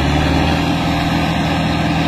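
Sonalika and Mahindra tractor engines running together in the desert, a loud, dense, unbroken diesel drone with no talk.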